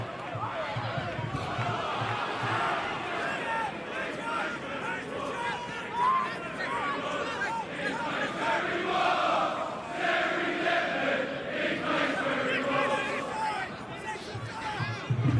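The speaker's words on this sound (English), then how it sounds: "Portsmouth crowd responding with Terry Devlin." Portsmouth football crowd chanting at an FA Cup match against Arsenal, a distant rhythmic mass of voices swelling and fading in the stadium, running continuously under close talk.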